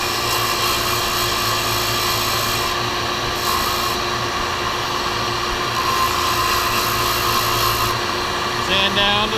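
A power sander grinding down a wooden catapult piece in a school workshop, a loud continuous whirring rasp that holds steady throughout with a dust collector roaring underneath.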